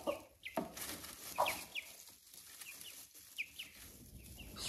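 A hen clucks and squawks in short agitated bursts while being held and handled after having its wound treated, close and fairly quiet over background hiss.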